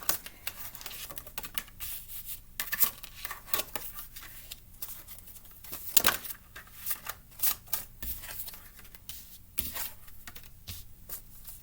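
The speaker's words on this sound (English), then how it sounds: "It's hard for me to shuffle these ones." Large tarot cards being shuffled by hand, giving irregular bursts of papery riffling and slapping clicks, close and fairly loud, with no talking.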